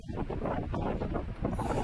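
Wind buffeting a small camera's microphone outdoors on a windy day, loud continuous rumbling gusts and muffled roar for the whole short stretch, with no voices.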